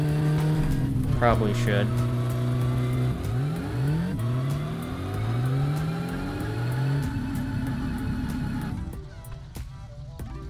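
The Satsuma's engine with twin carburetors in the video game My Summer Car revs loudly, its pitch climbing in repeated sweeps as it shifts up before dropping away, with a brief spoken line near the start.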